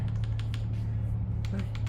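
Keys clack on a Nubwo X37 Necritz computer keyboard, a few light, close taps scattered over a steady low hum.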